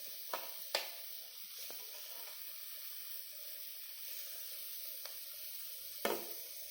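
Tomatoes fry with ginger garlic paste for a millet kichidi, giving a steady close hiss of sizzling with a few sharp stirring clicks and no voices.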